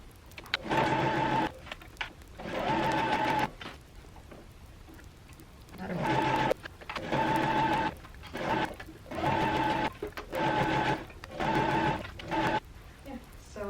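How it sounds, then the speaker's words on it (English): Sewing machine stitching the side seams of a sage green dress, running in several steady bursts of a few seconds each with short pauses between, close and fairly loud. "I am just going to sew the side seams."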